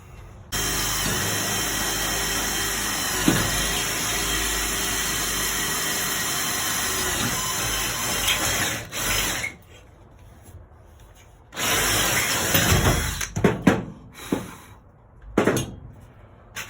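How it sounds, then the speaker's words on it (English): A hole is drilled and a rivet is set during a lightweight bed build. A long, steady, loud drilling whir is followed by a gap and then several sharp, close bursts of riveting and handling noise. "I'm going to do one more hole and one more rivet"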